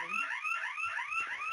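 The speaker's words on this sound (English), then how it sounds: "We have had a fire alarm here, and basically I'm going to have to leave." A building fire alarm sounding in a repeating warbling pattern, a rising electronic whoop cycling about every quarter second, steady and moderately loud.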